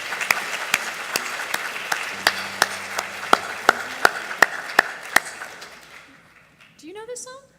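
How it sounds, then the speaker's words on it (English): Theater audience applauding in a dense, steady wash of clapping, with a few sharper claps standing out before it fades out near the end. "how about another round of applause for the miraculous rebirth of the Elliott Theater"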